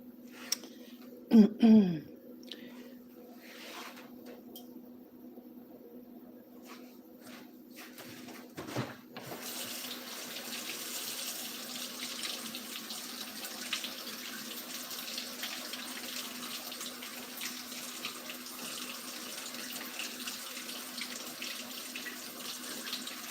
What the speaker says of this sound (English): you can probably hear water running in the background. That's me washing my brushes off.